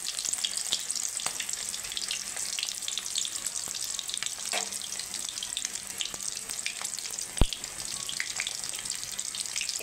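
Small chuno fish pakoras sizzle and crackle steadily in hot oil as six are dropped into the pan, a continuous close frying hiss with occasional sharp pops and spatters, no talking.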